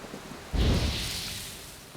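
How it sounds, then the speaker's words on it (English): A single rumbling thunderclap breaks out suddenly during a storm in The Witcher 3: Wild Hunt, a loud low boom with a hissing wash of rain and wind that slowly fades, with no talk. "A storm, damn it."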